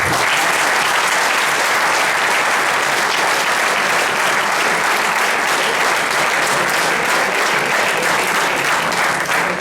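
Audience at an open session breaks into sustained applause, a dense, steady wash of clapping from a large crowd that holds at full strength throughout.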